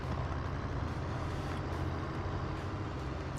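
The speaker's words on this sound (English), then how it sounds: "Let's see if I can get this truck in here sideways." A heavy truck in Farming Simulator 25 manoeuvres around a rock pile with a steady low diesel engine drone, even and moderately loud with no distinct events, heard on its own.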